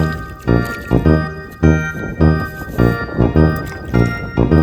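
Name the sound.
rinsing a toy car with water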